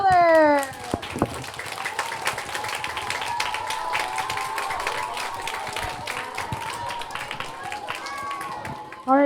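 An audience at a 2nd and 3rd grade school spelling bee claps for the young spellers in a sustained, fairly close round of applause, with children's voices and an adult speaking at the edges.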